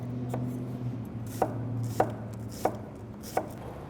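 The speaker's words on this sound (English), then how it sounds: "I'm gonna dice up about a half cup of yellow onion." Knife dicing yellow onion on a cutting board, a handful of crisp, evenly spaced chops over a low steady kitchen hum.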